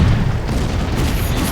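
Explosion in the World War II strategy game Blitzkrieg 2, a loud, dense, rumbling blast that fills the whole short moment with continuous booming noise and no speech.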